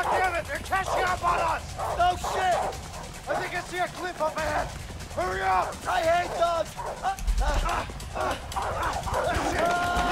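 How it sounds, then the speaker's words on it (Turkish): Dog barking in the video game A Way Out, repeated barks and yips close by under excited overlapping talk from players. "köpek yakaladı, yakaladı beni"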